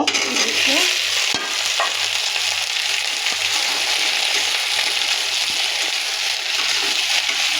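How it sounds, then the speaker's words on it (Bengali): Okra tossed into a pan of already-fried onions sizzles loudly and steadily, a dense close-up frying hiss with occasional stirring scrapes and no talking. "পেঁয়াজ অলরেডি ভাজা শেষ, এখন আমি ঢেঁড়স দিয়ে দিব।"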